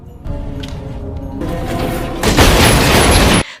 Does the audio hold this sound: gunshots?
yes